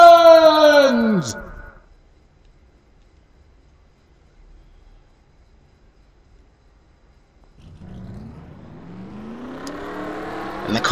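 NASCAR race cars in a SEGA video game, a loud engine note rising to a high whine and cutting off, then after a quiet gap a rumbling pack of engines rolling and building in volume.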